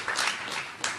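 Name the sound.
audience applause for Ron Chernow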